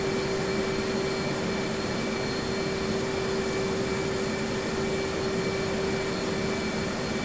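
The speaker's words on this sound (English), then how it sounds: "Okay, engines are up and running." Twin jet engines of an F/A-18 Hornet running steadily in the DCS World flight simulator, a continuous loud roaring whine with a sustained tonal hum, unchanging throughout and with no talking.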